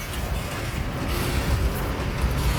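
Continuous low rumble of passing vehicles on a road, a steady dense roar without pauses or voices.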